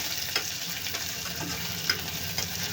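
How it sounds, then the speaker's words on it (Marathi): Tomatoes sizzle in hot oil for a hotel-style potato rassa curry, a steady close frying hiss with a few stirring scrapes and small pops, no voices. "टोमॅटो पण आपल्याला भाजून घ्यायचं आहे"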